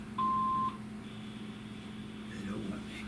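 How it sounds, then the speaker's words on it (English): A single clean electronic beep from a telephone answering machine, sounding alone for about half a second, followed by quiet room tone and faint talk. "Please leave your name and phone number after the beep."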